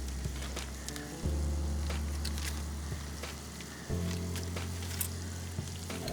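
Sausage stuffing vegetables cook in a pan with sage and poultry seasoning, giving a steady, fairly quiet crackling sizzle with scattered pops over a low, constant hum.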